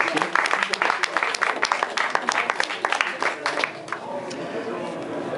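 Audience clapping at an awards ceremony, a dense burst of applause that thins out toward the end, with faint crowd chatter underneath.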